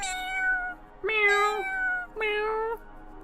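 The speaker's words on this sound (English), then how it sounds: "a small high-pitched meow cuts the silence" A small cat in the woods meowing three times, each call drawn-out, high and tonal, close and clear against quiet surroundings.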